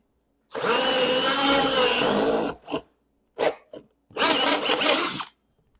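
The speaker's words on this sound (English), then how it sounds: "I just take a hole saw and I'll just drill a hole right on the X" A power drill with a hole saw grinds steadily through wood for a couple of seconds, stops, gives short bursts, then bores again in a second loud run.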